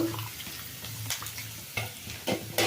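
Onions frying in a pan for pumpkin palya, a quiet steady sizzle broken by occasional stirring scrapes, close but faint.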